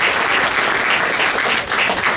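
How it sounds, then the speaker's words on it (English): Loud, dense applause from a city council debate audience in Mount Vernon, a continuous close wash of many hands clapping without pause. "one more round of applause for our moderators"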